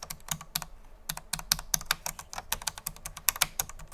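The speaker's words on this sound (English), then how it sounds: "The mechanical feel stands out and has a nostalgic click when pressed." Rapid, crisp clicking of keys on a Cherry KW X ULP low-profile mechanical keyboard, typed in an irregular fast rhythm, close and alone with no talking.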